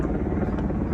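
A helicopter flies over the Kedarnath trekking route, its steady rotor thrum loud and continuous, with a voice faintly audible beneath it.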